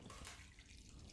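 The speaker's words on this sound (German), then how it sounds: "Gieße das Ganze ein bisschen auf." Water poured into a pan over caramelised chicory, a continuous broadband splashing and sizzling wash, close and fairly quiet, with no voices.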